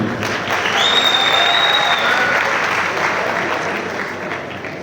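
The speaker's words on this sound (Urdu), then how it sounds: "آپ سب کی بھرپور تالیوں میں." An audience at a women's rights forum in Pakistan breaks into loud, sustained applause to welcome guests, a dense wash of clapping that holds for about five seconds before easing slightly.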